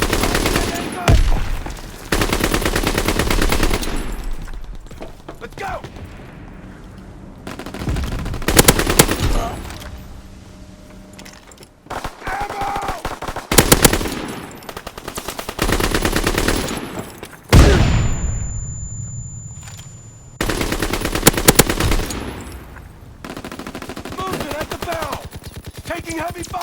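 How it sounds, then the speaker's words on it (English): Heavy automatic gunfire in a Call of Duty: WWII team deathmatch on the USS Texas map, loud close bursts of rapid shots broken by short pauses, with distant shots and occasional shouted callouts from soldiers. "Taking heavy fire!"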